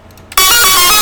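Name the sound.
cowbell sound in a rage beat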